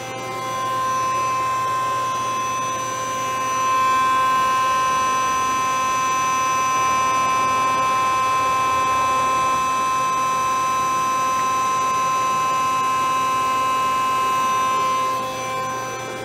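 A Fanuc Robodrill Alpha T14iA CNC machine running at 2,500 RPM gives off a steady tonal whine with a constant electrical hum that holds even and unchanging, with no speech.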